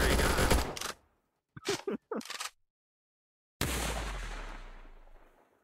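Gunfire in VRChat during a prison-escape game: a loud burst up front, then a few short sharp cracks, a pause, and a final booming shot that rings out and slowly decays.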